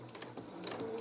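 A sewing machine stitching fabric for a cat's head on a soft toy, giving a close, quick rhythmic mechanical whirring and clatter for about a second, with no talking.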